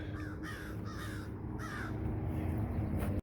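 A crow on Dinosaur Hills in Rapid City, South Dakota caws four times in a steady series of harsh calls over an outdoor background of wind and rumble.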